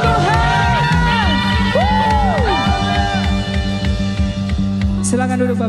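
Congregation at a Sunday church service shouting and whooping in praise, a loud sustained crowd roar under steady worship music and singing.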